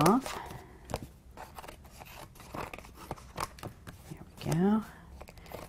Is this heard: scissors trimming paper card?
yes